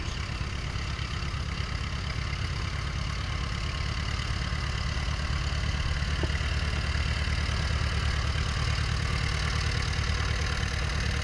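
Old, largely unrestored tractor engine running steadily at an engine show, a constant low chugging idle that stays even throughout with no voices.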